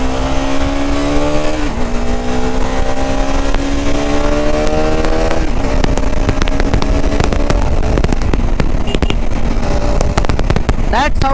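A 2025 KTM Adventure 390 motorcycle engine revs hard, pitch climbing and dropping in repeated stepped surges as it shifts, ending in a rough burst of popping crackles; loud and close throughout, with speech faintly mixed in.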